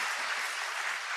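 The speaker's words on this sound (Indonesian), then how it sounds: "Tepuk tangan yang keras." Loud, dense applause from a church congregation at a Sunday service fills the moment, steady clapping with no voices heard.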